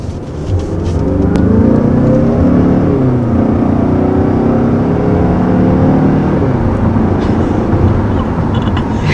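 A 2019 Mazda 6 Turbo accelerates hard, its engine note loud and close as the revs climb, ease off for a shift, then climb again in a steady, rising drone.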